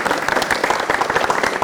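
Steady, loud applause fills a college hall during a comedy game show as a prize is handed over, a dense, continuous patter of many hands clapping with no break.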